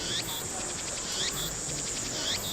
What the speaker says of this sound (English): The cicada sound is really annoying.